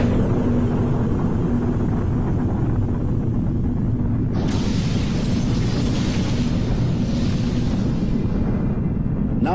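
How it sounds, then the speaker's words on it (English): A hydrogen bomb explosion rolls out as a continuous deep, thundering rumble that swells abruptly about halfway through, with a hissing roar layered over the low booming. "The splitting of deuterium was the basis for the creation of the most destructive bomb, the hydrogen bomb."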